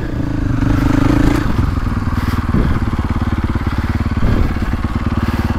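A KTM 450 SXF dirt bike engine runs close and loud, a steady four-stroke chug with rapid firing pulses that swell and ease as the throttle rises and falls, with occasional clatter and thuds from the bike.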